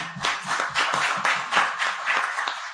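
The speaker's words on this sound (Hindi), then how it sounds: "एक बार चाहूंगी कि जोरदार तालियां।" A small group claps in a steady, rhythmic pattern at an official Delhi government event. The applause is close and even, with separate hand claps clearly audible.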